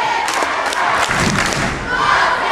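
A loud basketball crowd roars and cheers at a varsity boys game in Couch, Missouri, during a two-point contest late in the fourth quarter. The dense, continuous din of shouting fills the space with no pauses.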